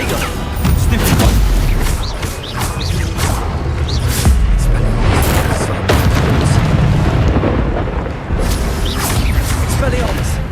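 Hogwarts Legacy combat with rapid spell casting and explosions: repeated loud booms and bursts over a dense, continuous battle din, with shouted spell voices in the mix.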